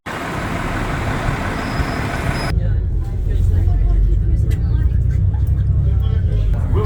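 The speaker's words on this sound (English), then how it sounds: "here comes the bus, little double-decker" A small double-decker bus pulls up on a road in Melbourne, Australia, its loud, steady engine rumble turning into a deeper, heavier drone as it draws near. A voice speaks over the noise.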